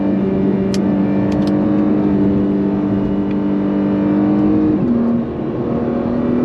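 A 2022 Acura NSX Type S drives hard on the Sears Point track, heard from inside the car. The engine drones loudly and steadily, with a pitch that climbs gradually, then drops briefly near the end as the nine-speed gearbox shifts.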